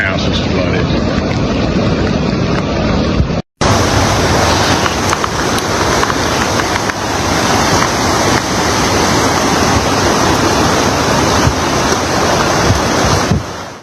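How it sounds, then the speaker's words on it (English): The flooded, swollen Guadalupe River rushes loudly and continuously, a dense roar mixed with heavy wind buffeting on the microphone, broken by one brief cut just before the four-second mark. "Anyway, that's the Guadalupe River."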